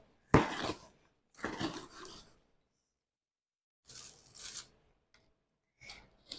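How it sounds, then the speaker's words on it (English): Potting soil mixed in a large bowl, several separate scraping, rustling bursts with quiet pauses between them, close up. "I always forget that I actually have to mix this up like after I measure everything out."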